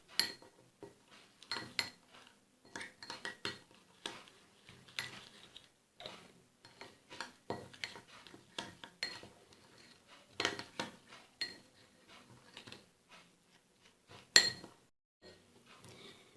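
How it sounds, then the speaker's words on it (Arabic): A spoon stirs ground coffee with rose water in a bowl, giving repeated soft clinks and scrapes in an irregular rhythm, quiet and close. "وغادي نخلط مع الماء ورد حتى نحصل على واحد العجين"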